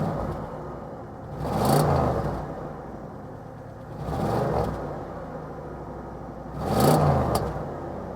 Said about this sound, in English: I'll give you guys a quick chance to hear what the Fleetwood limousine sounds like.